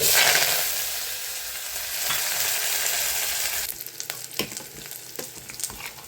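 Brinjal and dried fish curry fries in a pan with a loud, steady sizzle that eases after a few seconds, broken by sharper stirring clatters and crackles toward the end.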